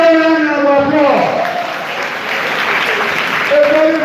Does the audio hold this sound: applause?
yes